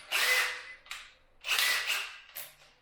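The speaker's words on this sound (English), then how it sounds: "I'm gonna find my drill." Power drill spinning in three short bursts, each whirring up and trailing off, close and fairly loud with brief pauses between.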